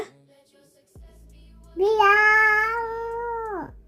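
A child's drawn-out imitation of a cat's meow, a single rising then steady wail lasting about two seconds, close and fairly loud after a brief quiet.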